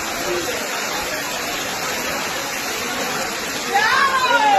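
Heavy rain pours down steadily while workers unload goods outdoors, a loud dense wash of water that swells slightly near the end as a voice briefly cuts through.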